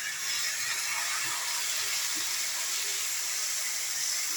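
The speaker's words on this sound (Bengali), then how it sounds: "এই মশলা ধোয়া জলটা দিয়ে দিলাম" Spice-rinse water being poured into a pot of boiling potatoes and papaya, heard as a steady, loud watery hiss and sizzle that continues evenly from start to finish with no talking.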